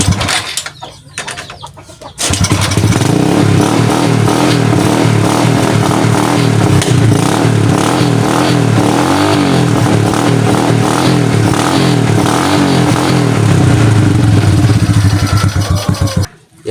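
A Honda Wave 125 motorcycle engine revving loudly and steadily through its exhaust muffler, up close, with a short quieter stretch at the start before the engine sound comes in.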